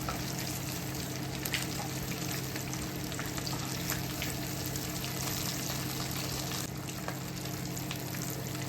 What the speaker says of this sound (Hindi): अच्छी तरह से फ्राई कर लेना है दोनों साइडों से।